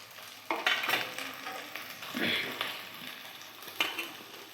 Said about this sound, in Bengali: আদা রসুন কষিয়ে নেব ভালো করে।